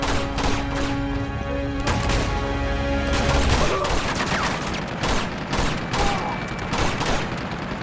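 Rapid pistol gunfire in the video game Uncharted 2: Among Thieves, loud sharp cracks fired in quick irregular bursts, mixed with impacts and game noise throughout.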